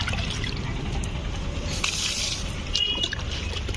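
Liquid compost tea pours and trickles steadily onto soil around tomato plants for a few seconds, a soft continuous splashing with faint rustling, no voices.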